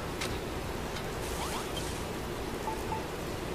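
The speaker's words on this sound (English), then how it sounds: "Ah, it's starting to rain, lovely." Steady rainfall in the video game Dragon Quest Builders 2, a continuous even hiss of falling rain throughout with faint incidental game sounds over it, no talking.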